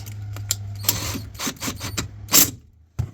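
A ratchet tightens the bolt on a horn wire connector in an 2008 Ford Econoline van, giving a few close, sharp mechanical clicks and rasps over a steady low hum.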